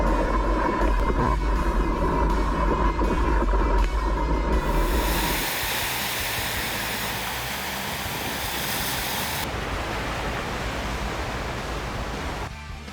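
Gentle surf at Waiao beach in Toucheng, Yilan, Taiwan, rolls as a broad, loud rushing wash that swells and shifts over several seconds, with a brief clatter near the end.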